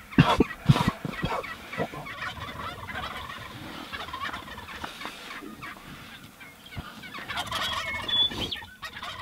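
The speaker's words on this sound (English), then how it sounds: "the whole flock started going off crazy, gobbling and cackling" A flock of wild turkeys in Nebraska gobbling and clucking in bursts outdoors, several birds calling over one another at moderate distance, with brief sharp noises mixed in.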